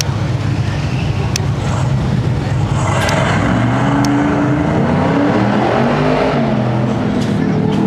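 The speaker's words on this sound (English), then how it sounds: "So we should see a sub 40-second lap coming out of this C10 pickup truck." A C10 pickup truck on wide-five wheels runs an autocross course at a Goodguys Nashville event, its engine droning loudly and steadily with rising revs in the latter half while an announcer talks over it.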